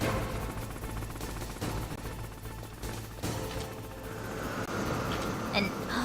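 A helicopter in Metal Gear Solid rains steady, dense machine-gun fire over a loud rumbling battle din, with bursts rising and falling over several seconds.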